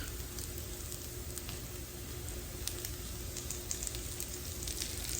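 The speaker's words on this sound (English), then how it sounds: "Probably about a half a cup of this bacon fat. It's going to go in here." Bacon fat hits a pan of cooking refried beans, giving a soft steady sizzle and light spattering hiss, fairly quiet and close, with no voices.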